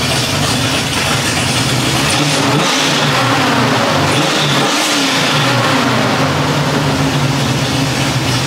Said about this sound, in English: with a car that sounds that good, absolutely those revs are necessary